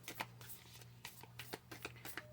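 A deck of oversized tarot cards shuffled by hand, giving several brisk papery riffles and slaps in an irregular rhythm, close and fairly quiet over a low steady hum.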